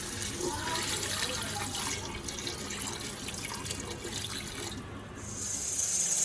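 Water pours steadily into a pot of onion, garlic, haldi, red chili powder, black pepper and salt for bhuna gosht karahi, with a continuous splashing rush that swells slightly near the end. No one speaks.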